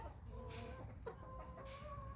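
A white leghorn chicken clucks softly a few times against a faint, noisy farmyard background during chore time.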